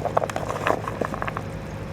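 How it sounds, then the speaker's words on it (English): Celery and carrots are stirred in a cast iron pot over charcoal, giving soft, close, irregular clicks, squishes and light scrapes against a low steady background. "I'm going to start putting in my celery and carrots, and mixing them up a bit"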